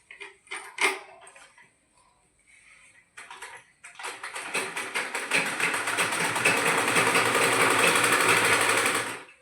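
A sewing machine stitches a neckline onto doll clothes, first with a few short taps and clicks and then a long, fast, rhythmic run of stitching close by.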